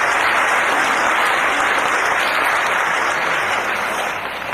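Audience at a stand-up comedy show applauds in a dense, continuous wash of clapping that holds loud throughout and thins slightly at the end.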